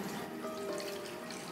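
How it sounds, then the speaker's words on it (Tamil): Water pours steadily into a kadai set on medium heat, a continuous splashing, filling sound heard alone at close range. "தண்ணி ஊற்றிடணும்."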